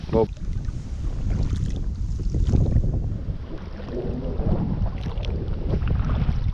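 Steady wind buffets the microphone outdoors while fishing, a continuous low rushing roar with faint background noise.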